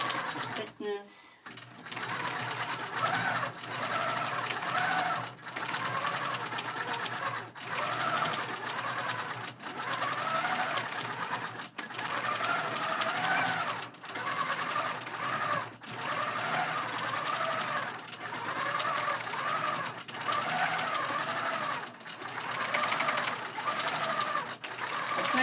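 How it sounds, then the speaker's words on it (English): A quilting sewing machine on a quilting frame stitches through a thick, stiff pillow top, making a steady, fairly loud mechanical whirr with a faint repetitive tapping. It runs continuously, with brief pauses and no clear talk. "I still hear a little tapping, but that's the stiffness of the fabric, the thickness."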